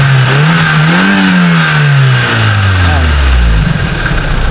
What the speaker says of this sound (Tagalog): Pag i-rev natin yan,